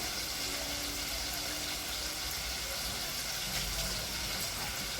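Tap water runs steadily while shrimp are rinsed, a constant close splashing gush lasting throughout with no voices.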